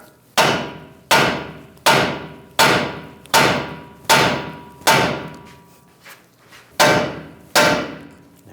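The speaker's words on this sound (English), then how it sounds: "just take a hammer, give it a tap" Hammer blows tapping a front lower ball joint loose on a 2011-2018 Ram 1500 truck: nine sharp, evenly spaced metallic strikes, close and loud, each ringing briefly before the next, with one lighter tap near the end.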